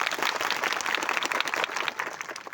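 A crowd at an outdoor village speech gathering for a birth anniversary celebration applauds in a steady, dense wash of clapping that holds at full strength throughout, then thins slightly near the end.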